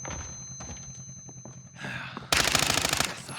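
An LC10 submachine gun fires in Warzone: after a stretch of low muffled thuds, a loud, close burst of rapid automatic fire rattles for about a second with no voices.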